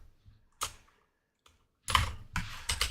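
Arrow keys on a computer keyboard are pressed in a few scattered clicks, then a quicker cluster of taps near the end, close and crisp with no talking.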